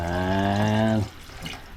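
Water is poured into a cooking pot while nilagang pata is prepared, a loud, steady pouring tone for about a second that stops abruptly, leaving faint rustling.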